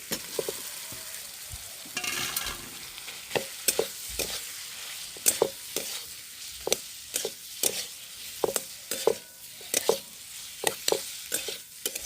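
Mashed potato is stirred into spices frying in a pan, with a soft sizzle underneath and regular scraping strokes of a spatula against the pan, close and unaccompanied by talk.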